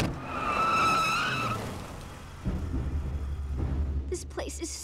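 A car skids in an animated series: a loud, high tire squeal for over a second, then it fades into a heavy, low engine rumble.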